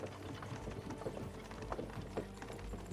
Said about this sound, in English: we could make the horses go a little faster